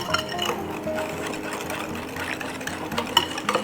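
Electric mixer on a slow setting breaking up eggs in a bowl for pumpkin pecan pie squares, a close, continuous motor whir with a slight rhythmic rattle throughout.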